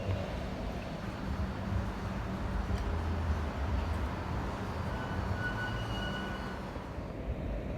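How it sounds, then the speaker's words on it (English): An old-style tram runs through Vienna with a steady low rumble and rolling rail noise that holds level throughout, fairly close, with no one talking. "But this is what a tram looks like."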